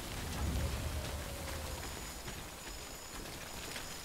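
Steady rain falls on a mountain in the video game Death Stranding, a continuous close hiss with scattered droplet patter and a faint low rumble, with no voices.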